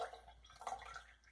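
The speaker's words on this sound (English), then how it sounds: "you're just pouring the liquid in" Pea juice poured from a narrow glass into a test tube gives a soft, faint liquid trickle with small drips over about a second, with no voices.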